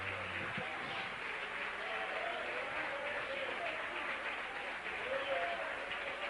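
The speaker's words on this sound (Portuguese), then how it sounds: "Receba essa aplauso, Jesus, que é para ti essa noite." Congregation clapping together during an evening church service, a steady dense wash of applause that holds at an even level throughout, with no break in the sound.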